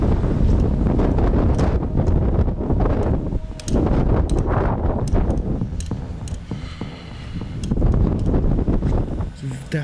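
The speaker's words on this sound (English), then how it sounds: "the wind here is freaking me out." Wind buffets the microphone and moans through an abandoned, partly collapsed building with holes and a caved-in floor, loud and continuous with gusty swells, while a person talks over it.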